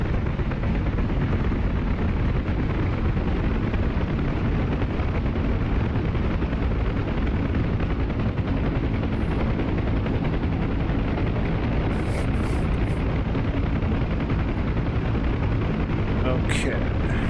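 Aircraft engine in the DCS flight simulator spooling up, a loud, continuous broadband roar that holds steady throughout with a few brief high-pitched electronic tones near the end.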